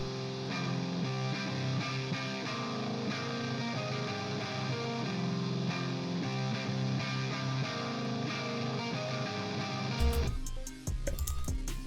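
Several distorted shoegaze electric guitars play together in a thick, layered wall of sound, steady throughout before a brief percussive change near the end.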